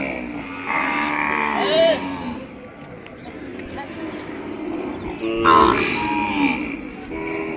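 Calves at an outdoor cattle market in Kodada, Telangana moo loudly twice, one long call near the start and another later, over a busy crowd murmur while people talk nearby.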